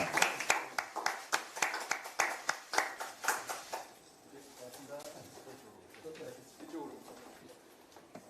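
Applause from an audience at a political party's talent-recruitment event, a few loud distinct hand claps in a steady rhythm for about four seconds, then fading into quieter room noise with faint voices.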